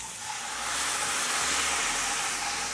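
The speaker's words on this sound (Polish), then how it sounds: "wlewam wywar z gołąbków" Loud, steady hissing and sizzling as cabbage-roll broth is poured into a hot pan, swelling after a moment and continuing evenly.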